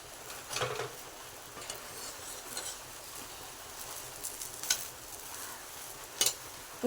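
Food frying in a kadai alongside a home-cooked meal of rice, dal and fried egg, with a soft steady sizzle and a few sharp clinks of a utensil against the pan.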